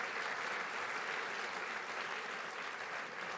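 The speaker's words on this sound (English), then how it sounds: "let's give one more round of applause to all of our teams, our food teams, our industrial teams" Steady, dense applause from an event audience cheering competing teams, continuous and even for the whole stretch, moderately distant.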